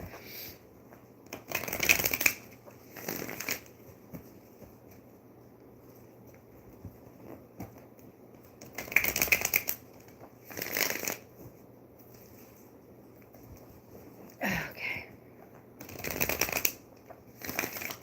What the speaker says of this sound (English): Hopefully I can remember what they all mean, because these cards are different than others that I have